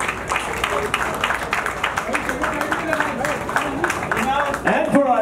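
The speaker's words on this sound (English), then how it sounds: "The applause should keep going." Audience applause fills a hospital opening ceremony in Chembur, a steady wash of many hands clapping at moderate loudness with voices mixed in throughout.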